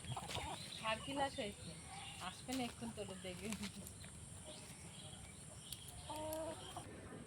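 Chickens cluck in short repeated bursts at moderate distance, mixed with the noise of a backyard setting where a person talks at times.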